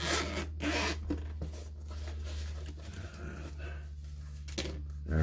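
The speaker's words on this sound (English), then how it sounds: "Unzip it." The zipper on the carrying case of Bose QuietComfort 35 II headphones is pulled open in several close, scratchy rasping strokes, with soft handling rustle between them.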